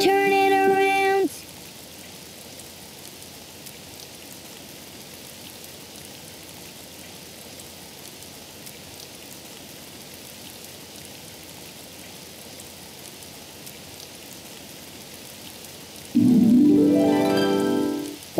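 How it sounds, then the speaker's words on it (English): Light rain patters steadily in a Daniel Tiger children's video game, a soft continuous hiss between short bursts of game music at the start and end. "It's raining outside."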